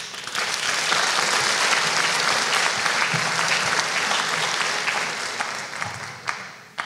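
Sustained applause fills a graduation ceremony for chemistry graduates, a dense steady clapping from a large audience that holds for several seconds and then thins slightly toward the end.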